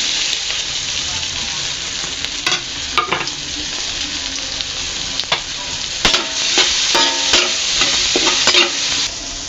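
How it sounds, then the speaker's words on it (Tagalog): Sliced patola sponge gourd sizzling and sautéing in a hot pan for ginisang patola, a loud steady fry with repeated scraping stir strokes and clinks of a utensil, close up and without talk. "ibubuhos na natin o ilalagay na natin ang ating patola"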